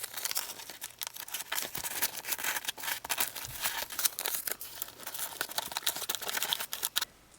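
Masking tape crackles and rips in quick, irregular bursts, pulled off the roll and pressed down up close, with short pauses between strips.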